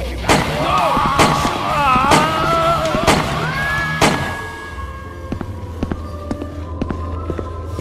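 Gunshots ring out in the video game Yesterday: several sharp, loud cracks spaced irregularly through the first half, mixed with game sounds and tonal effects, then sparse quieter knocks over a low hum.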